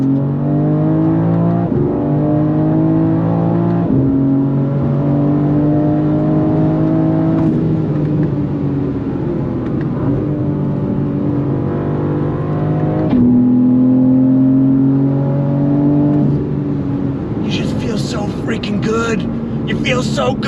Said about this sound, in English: It sounds like a race car in here.